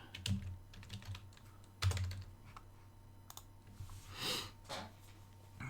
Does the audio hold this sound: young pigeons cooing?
no